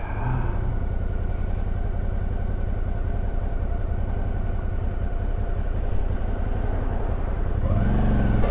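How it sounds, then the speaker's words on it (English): A car passes close by on a road near a ruined chateau, its steady engine and tire roar filling the clip at an even, fairly loud level without any talk. "Wait for this car to get off."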